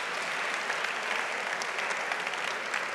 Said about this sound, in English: let's just give them one big round of applause again